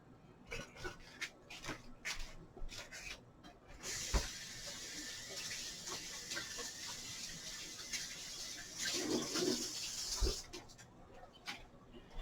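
A stuffed burger patty in a skillet sets off a loud, steady sizzle that starts abruptly after a few scattered handling clicks, holds for several seconds and then cuts off.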